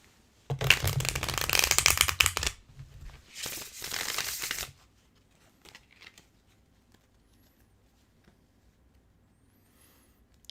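A tarot deck shuffled by hand in two brisk riffling bursts, the first about two seconds long and the second shorter, loud and close, then near silence with only a few faint card touches.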